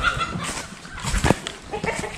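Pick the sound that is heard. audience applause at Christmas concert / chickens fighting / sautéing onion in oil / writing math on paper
chickens fighting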